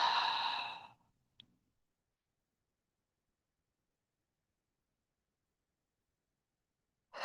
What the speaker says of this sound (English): Let your breath go with a few cleansing breaths or sighs, inhaling through the nose